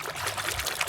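Water pours steadily in a brief, continuous splashing stream for cleaning a toy truck, close by and moderately loud.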